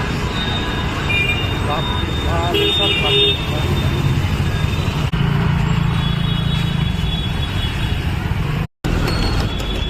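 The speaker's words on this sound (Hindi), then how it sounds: "बहुत ट्रैफिक जाम मिला" Street traffic jam with cars, buses and rickshaws idling and rumbling nearby, several short car horn toots sounding in the first few seconds, then a steady engine drone.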